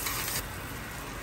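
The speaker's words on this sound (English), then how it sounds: "Make sure it's sizzling nice and hot, and this will prevent it from sticking." Steady, close sizzling of French toast batter frying in a hot pan, a soft hiss with a brief louder burst at the start.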